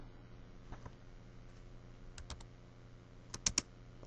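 Keys clack on a computer keyboard, with a few sparse, quiet taps followed by a sharper pair of space bar presses near the end, heard alone over a soft room hum.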